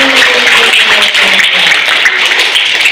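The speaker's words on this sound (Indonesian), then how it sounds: "Tepuk tangan dong buat Ibu Pandu." Schoolchildren clap for a teacher during a visit to an Islamic museum, a short burst of loud, close applause with a voice faintly beneath it.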